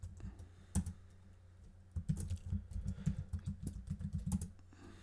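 Someone types a terminal command on a computer keyboard to install Python's pip package installer: a few isolated key clicks, then a quick, steady burst of close keystrokes with no voice.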